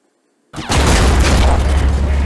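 A robot explodes in the turn-based game Mutant Year Zero: Road to Eden. After half a second of silence, a loud, dense burst of blast noise and rumble hits at once and roars on steadily.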